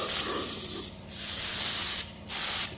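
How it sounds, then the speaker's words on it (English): Three bursts of aerosol carb cleaner hissing from a can, sprayed onto a patch-welded engine block, close and loud, separated by brief pauses. "spraying it down with carb cleaner"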